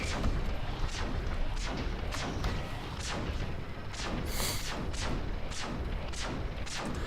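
Cannon towers firing in the tower defense game Defense Task Force, a steady run of repeated booming shots about every half second over a dense rumbling battle background, with no talk.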